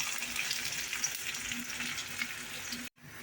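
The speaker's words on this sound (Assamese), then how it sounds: "নহৰুখিনি অলপ ভাজি ল'ম।" Garlic sizzles and fries in hot oil left over from frying fish, a steady loud crackling hiss with small pops, close up and without talk, cut off abruptly near the end.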